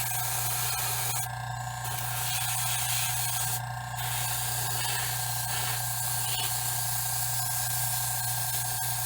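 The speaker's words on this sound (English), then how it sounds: "I'm just going to airbrush the glove and paint it the same color as the hands" An airbrush spraying paint onto a glove sends out a steady continuous hiss, close and even, with a low constant hum running underneath and two brief brighter bursts of spray.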